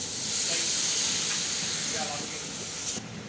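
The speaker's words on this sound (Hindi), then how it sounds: "अभी हम थोड़ा सा पानी लगा लेंगे।" Steady loud hiss of water added to a hot frying pan of masala and onions, steaming throughout before cutting off abruptly near the end.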